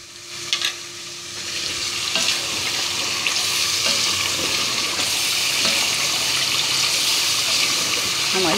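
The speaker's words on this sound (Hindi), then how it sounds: "हमारी चिकन भी भुनने पे आ गई" Chicken browning in a pan for nihari, a continuous sizzle with occasional stirring clatter and scraping, steady and fairly loud throughout with no talking.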